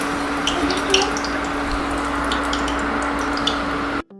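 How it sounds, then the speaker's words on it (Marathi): Medu vada, crispy urad dal fritters, fry in hot oil with a steady dense sizzle and scattered light pops and crackles, ending abruptly near the close. "अशाच प्रकारे मी सर्व वडे तळून घेते"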